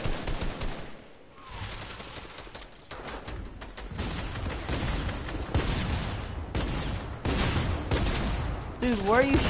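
Rapid gunfire bursts from a Fortnite match crackle through most of the stretch, dense and loud, with a voice talking over the shooting.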